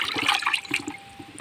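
Water sloshing and swirling as a vitamin powder for chickens is stirred into it, a steady liquid churn that fades slightly toward the end.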